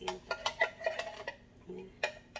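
A spoon stirs condensed-milk rice pudding in a pot, with quick clinks and scrapes of metal against the pot coming in a busy, uneven rhythm and heard up close.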